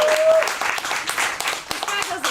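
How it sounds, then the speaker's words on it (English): Scattered applause breaks out among a town hall audience at a community venue, a loose cluster of nearby claps mixed with voices and chatter for a couple of seconds. "everybody give a round of applause to the captain of this ship"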